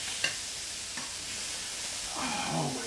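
Onglet steak searing on a hot grill to build a crust, a steady close sizzle with a couple of small ticks, swelling louder toward the end.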